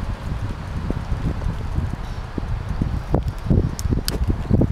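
Gusty outdoor wind buffets the microphone with a constant low rumble and rustling, swelling in stronger gusts toward the end.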